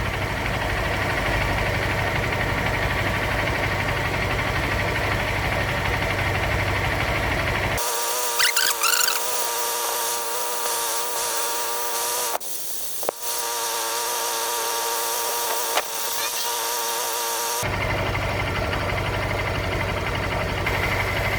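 A Honda CG 150 motorcycle engine idles steadily at close range, a continuous buzzing drone that holds unbroken throughout with no voices over it.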